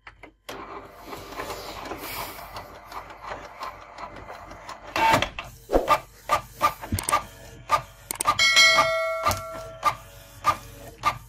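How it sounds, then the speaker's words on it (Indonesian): A Canon G2010 printer, just cleared of a paper jam, runs a black-and-white photocopy up close: a steady mechanical whir punctuated by a regular series of sharp clicks and ticks as the paper feeds through. "kita tes fotokopi kembali fotokopi hitam saja"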